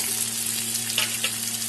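Cumin powder, hot chilli powder and Kashmiri chilli powder sizzle steadily in a pan of hot oil for a Bengali fish curry, a continuous close frying hiss with a few brief stirring scrapes and no talk.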